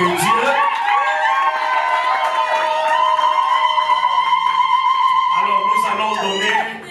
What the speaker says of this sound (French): Est-ce qu'on peut applaudir pour la gloire de Dieu?